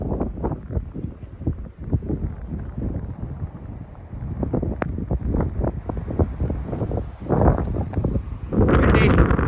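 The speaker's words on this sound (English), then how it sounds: "Windy, rainy, cold." Gusty wind on a mountain trail at 8,800 feet, with rain and cold, buffeting the microphone in steady rumbling surges, growing louder and rougher toward the end.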